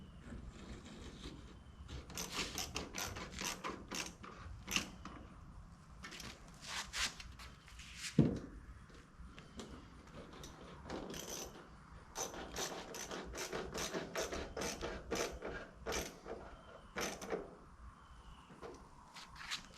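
A ratchet tightens the throttle body coupler during a Kenne Bell supercharger install on a Cobra, giving repeated bursts of close, crisp clicking with brief pauses and light handling noises between them.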